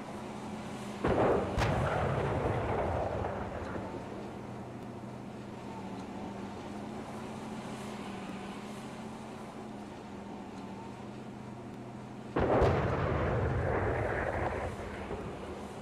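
Two heavy blasts of gunfire and explosions in the Tactical Chess war game, each a sharp loud impact followed by a rumbling decay, with a low mechanical hum between them and no talk.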